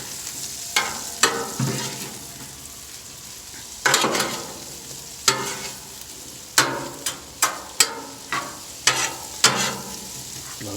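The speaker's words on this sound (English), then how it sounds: "Throw the veggies on there. Mix those guys around for a little bit." Vegetables stir-frying in butter on a Blackstone griddle: a steady close sizzle broken by about a dozen sharp scraping clacks of a spatula stirring and flipping the food, with no voices.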